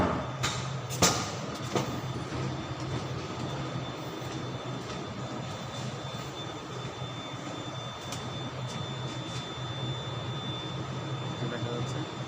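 An 8-megawatt steam turbine running at a power plant gives a steady, loud mechanical roar with a faint high whine, a few dull thumps near the start, and no pause throughout.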